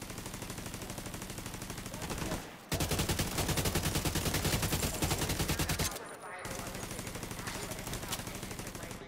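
Rapid automatic turret gunfire in The Division 2 rattles loudly and steadily across most of the stretch, with a brief gap midway before the bursts resume, over a dense game soundscape.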